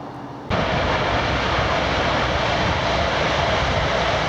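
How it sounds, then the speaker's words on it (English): A Great Northern Line train bound for King's Lynn passes close by, its loud broadband roar starting abruptly and holding steady and unbroken, with no talk. "Great Northern Line train to King's Lynn there."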